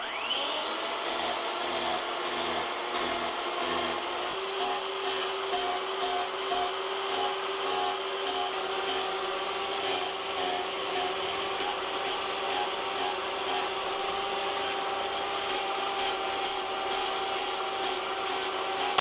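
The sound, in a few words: Rotozip rotary tool with power gouge carving wood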